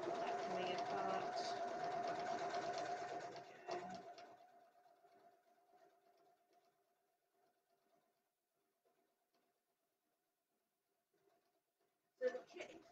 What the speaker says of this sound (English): do a line of stitching across the top to hold the layers together